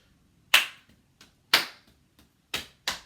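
Body-percussion rhythm from a year 5 and 6 music lesson: sharp, isolated claps and taps spaced about a second apart, with quieter soft taps in between, close and clear against silence.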